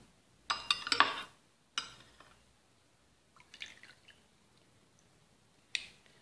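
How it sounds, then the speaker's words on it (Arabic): Lemon juice is strained and poured into a bowl in a kitchen, heard as a few short, quiet bursts of dripping and trickling liquid with faint clinks, separated by near silence. "نضيفو زوج معالق تاع عصير الليمون، نصفيهم من الأحسن نصفيهم"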